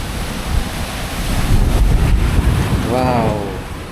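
Sea waves washing against a rocky shore with gusting wind buffeting the microphone, a steady rushing surf that swells in the middle, with a brief voice-like sound near the end.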